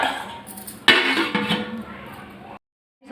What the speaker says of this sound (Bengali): ঢাকনা চাপিয়ে দেবো।